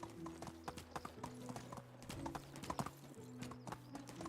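A steady run of hollow hoofbeats from a horse trotting along in Medieval Dynasty, a medieval village-building game, with crisp, evenly spaced clip-clops that keep a brisk rhythm, quiet but close, with no voices.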